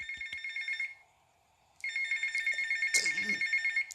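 Phone ringtone in the video game GTA Vice City, an electronic trill that rings, pauses about a second, then rings again with a brief thump under it.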